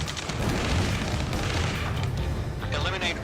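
Battle in the jet combat video game Ace Combat 7, with dense, continuous booming gunfire and explosions rumbling loud and close, and shouted radio voices mixed in over the din.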